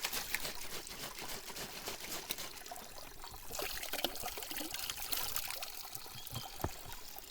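Water poured out of a small jar onto damp ground outdoors after rinsing, a close, steady trickling splash with a few louder spatters toward the end.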